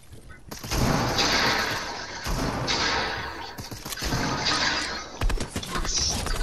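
Rapid gunfire bursts from a Fortnite squads match, loud and close, with sharp broadband cracks and smashing impacts arriving in clustered volleys across the stretch, separated by brief gaps.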